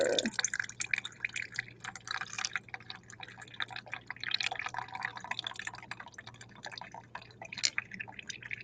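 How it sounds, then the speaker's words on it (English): Water seeps and drips through a paper coffee filter, with faint irregular trickles and patters up close in a quiet room. "That's the water seeping through the paper."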